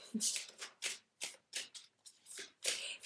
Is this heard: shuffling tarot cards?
yes